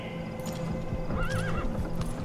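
A horse in Metal Gear Solid V gives a clear rising-and-falling whinny near the middle, with clip-clopping hooves thudding nearby throughout over a steady game ambience.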